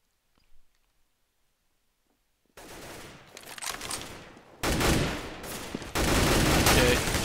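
Near silence gives way to gunfire in Counter-Strike on de_inferno, with sharp shots and rapid bursts building in loudness and density as a firefight breaks out.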